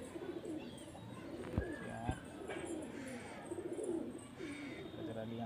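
Soft cooing from Deobandi pigeons kept in a loft, a few low rolling coos and calls at moderate distance over faint background noise, with some brief clicks.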